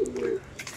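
Giribaz pigeons in a loft give a single short low coo, brief and close, followed by faint rustling.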